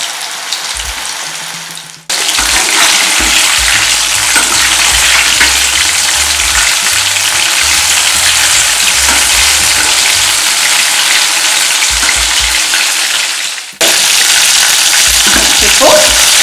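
Mutton pieces fry loudly with curry leaves for Mutton 65, a dense close sizzle with stirring scrapes, cutting out briefly twice before resuming just as loud.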